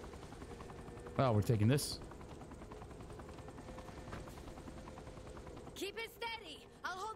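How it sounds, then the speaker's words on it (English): Helicopter flight in the video game Saints Row: The Third, a steady rotor drone running throughout beneath gameplay noise, with someone speaking briefly and a burst of voices and effects near the end. "I've never flown anything like this thing before. It's called a helicopter."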